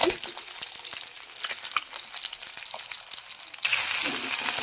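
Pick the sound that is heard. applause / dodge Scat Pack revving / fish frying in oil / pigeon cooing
fish frying in oil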